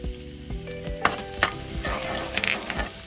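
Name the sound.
fresh minced garlic frying in garlic oil in pan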